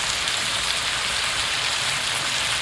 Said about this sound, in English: And we're going to let it continue to saute